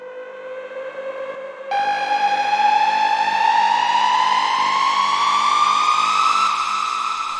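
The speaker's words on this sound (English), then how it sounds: "I have this riser I made with the sub 37 back there." A synth riser played as a single note on a Moog Sub 37, a bright harmonic tone that thickens after a short intro and then climbs steadily in pitch for several seconds, loud and alone.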